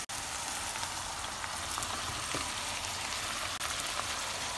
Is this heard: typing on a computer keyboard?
no